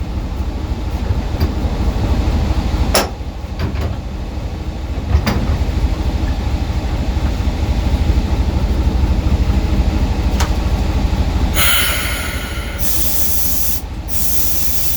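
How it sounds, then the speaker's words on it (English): A diesel-electric locomotive's park brake releases its air, the air cylinder pulling back amid a steady loud engine rumble, with a few sharp clicks and then two bursts of hissing air venting near the end. "See it move when I let the air off? That's the air cylinder pulling back."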